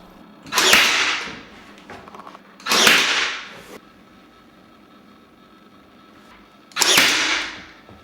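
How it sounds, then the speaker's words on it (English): A drill drives screws into the edge of an MDF wardrobe panel in three separate short bursts, each a harsh, loud whirring rush lasting about a second, with quiet gaps between them. "pinning them in place so I can pre-drill a hole and drive a screw in"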